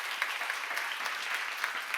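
Audience clapping at a church seminar, a steady dense patter of many hands filling the whole stretch at moderate distance, with no voices over it.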